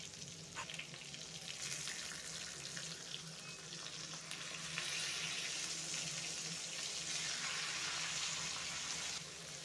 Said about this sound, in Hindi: बैगन को मैं पलट कर दूसरा साइड को भी मैं फ्राई करेंगे